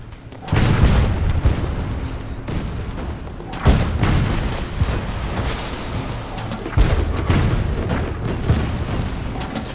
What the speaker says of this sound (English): I think there's some shooting here.